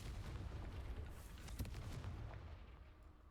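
An explosive spell detonates in the Hogwarts Legacy video game, giving a loud booming blast with sharp cracking bursts in the middle over a sustained low rumble that slowly fades, close and without voices.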